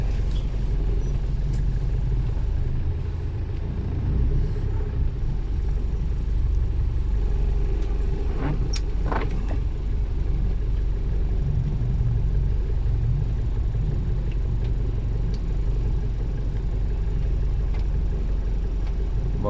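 A car wades through deep flood water during heavy rain on a road in Parañaque, giving a steady low engine rumble with constant water wash and rain noise, with no talk.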